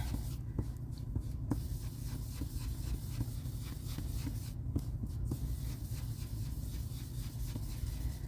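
Ink blending tool rubbed in circular strokes across paper onto Designer Series paper, giving a steady, close scratchy rubbing that runs continuously, with a few sharper scuffs and taps along the way.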